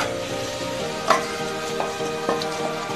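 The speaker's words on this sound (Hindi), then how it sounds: "ये देखो बर्तन को मैंने लो फ्लेम पे रखा है, अब मैं इसमें दाल को ऐड करती हूँ।" Dry chana dal goes into a pan on a low flame for puran poli, with a soft steady sizzle and a few sharp clinks and scrapes of stirring, close up and without talk.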